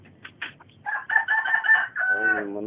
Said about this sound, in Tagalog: Ayan yung manok ko.